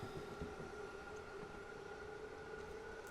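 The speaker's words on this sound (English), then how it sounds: "that was a train there, that's the SNG-3" An SNG-3 Sprinter Next Generation train passes in Train Sim World 5 on the Groningen–Zwolle route: a faint, steady rail rumble with a constant tonal hum running throughout.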